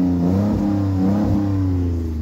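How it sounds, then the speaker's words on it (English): A Chrysler 300 engine with an exhaust leak idles and revs steadily up close, a loud continuous low rumble with slight rises in pitch and no talking. "you're gonna hear an exhaust leak."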